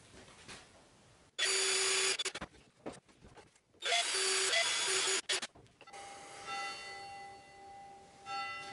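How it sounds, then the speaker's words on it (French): Power drill bursts pre-drilling holes in a wooden batten with a 4 mm bit, two loud whining runs of about a second each separated by a pause, followed by quieter scraping and handling sounds. "Donc là je préperce mon bois."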